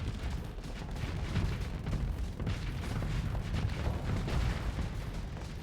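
Spaceship weapons fire in Starsector as a quiet, dense stream of rapid booming shots and distant explosions, blending into a continuous rumbling barrage.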